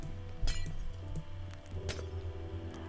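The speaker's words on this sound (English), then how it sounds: "Break the glass." Glass blocks shattering in Minecraft, a Pantheon adventure map, several bright clinking breaks in quick succession over a steady low game hum.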